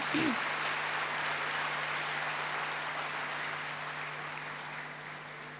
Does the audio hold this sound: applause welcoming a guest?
yes